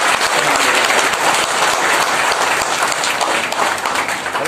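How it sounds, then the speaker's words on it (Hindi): Police officers and guests at an Independence Day flag hoisting at a district police office applaud, a loud, close, continuous burst of many hands clapping. "तालियां बजनी चाहिए।"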